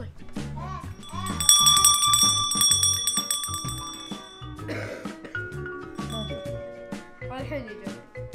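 A bell rings clearly and repeatedly indoors, its bright sustained chimes layered over several clear strikes, while people talk and a throat clears throughout.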